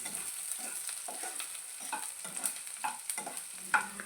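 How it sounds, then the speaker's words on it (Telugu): Onions and chana dal fry in hot oil while a ladle stirs them, giving a close, fairly quiet sizzle with repeated scraping clicks at an irregular pace. "మధ్య మధ్యలో ఆనియన్స్ని ఇలా గరిటెతో కలుపుకుంటూ వేయించుకోవాలి"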